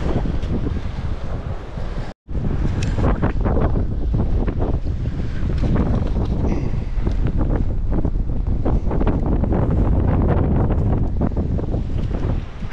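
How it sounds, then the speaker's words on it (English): Strong wind gusts buffet the microphone at a coastal fishing jetty, a loud continuous rumbling roar with surf washing beneath, briefly cutting out once near the start. "it's really windy."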